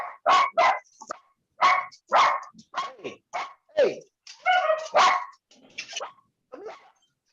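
Several dogs bark in short, sharp bursts, some yips and whimpers mixed in, close and loud in an irregular rhythm, with a brief spoken word among them.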